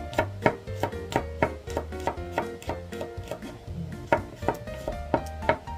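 A knife chops garlic on a board, probably for a sautéed bottle-gourd and sardine dish, in a steady run of about two crisp, close strikes per second. Soft tonal music plays underneath, and no one speaks.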